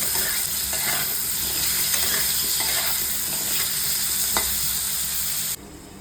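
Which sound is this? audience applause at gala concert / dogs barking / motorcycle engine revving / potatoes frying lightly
potatoes frying lightly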